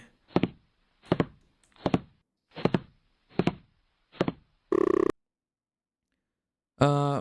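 Six evenly spaced heavy knocks on a door in the video game Pretend it's not There, followed by two short buzzy electronic tones with silence between them.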